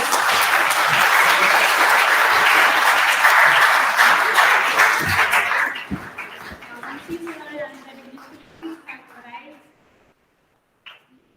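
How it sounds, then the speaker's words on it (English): Audience applause welcoming guests at an International Women's Day 2023 event, loud, dense clapping that thins out after about six seconds into scattered claps and fades to silence, with a late isolated clap. "Please give them a big round of applause once again."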